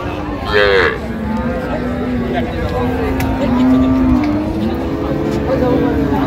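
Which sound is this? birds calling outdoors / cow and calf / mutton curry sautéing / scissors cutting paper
cow and calf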